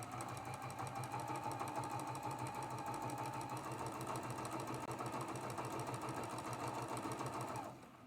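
Sewing machine running steadily as it stitches light quilt fabric pieces with black thread for a flying geese block, a close, continuous mechanical whir that stops abruptly near the end.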